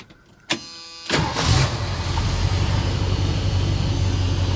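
Classic car engine cranking briefly, then catching and starting to run, settling into a steady, loud, close idle with no talk over it.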